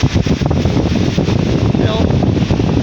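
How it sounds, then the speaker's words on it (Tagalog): Strong seaside wind buffets the microphone as a steady roaring rush, loud and close throughout, with a voice talking over it. "Lakas ng hangin talaga."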